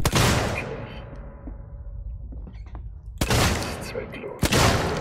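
Sharp, loud gunshot blasts in the video game Alien: Isolation ring out with a fading reverberant tail, one early and two more a few seconds later, with a voice in between.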